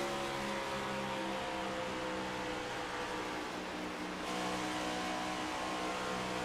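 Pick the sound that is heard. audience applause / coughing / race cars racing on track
race cars racing on track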